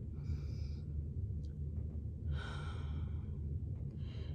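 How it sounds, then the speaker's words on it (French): A slow, deep breath during a guided relaxation exercise, with soft airy inhales and a longer exhale carried over a low background hum, close and quiet, with no talking. "je propose une première respiration"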